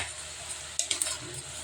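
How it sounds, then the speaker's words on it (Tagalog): A spoon stirs pakbet with oysters in a cooking pan, soft scraping with a few quick metallic clinks, faint and close under a steady background hiss. "haluin natin"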